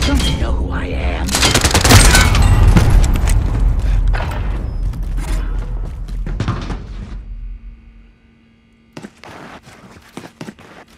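Heavy gunfire from Call of Duty: Modern Warfare, loud bursts and booms that swell and then drop off, followed by sparse scattered shots with a player's voice talking over the action.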